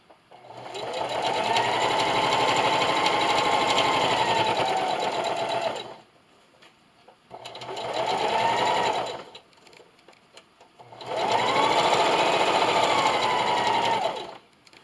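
Sewing machine stitching a placemat, three steady whirring runs of several seconds each separated by brief pauses, close and clear, with no talking over it.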